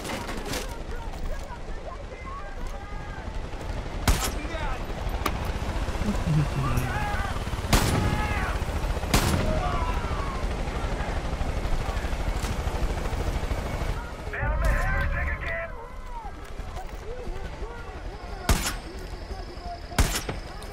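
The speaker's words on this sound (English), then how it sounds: "And a helicopter shooting at me as well." Helicopter gunfire in the Far Cry 5 video game: bursts of automatic fire and sharp shot cracks over a steady rotor drone, with explosions and game effects mixed in and voices talking throughout.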